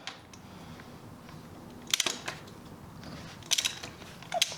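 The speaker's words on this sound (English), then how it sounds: "First of all we have to take off the bottom of the forks here, so just undo those." A ratcheting wrench clicks in short bursts while undoing the bolts at the bottom of motorcycle front forks on a café scrambler build, the sharp metallic ratchet sounds coming close and intermittent over quiet room tone.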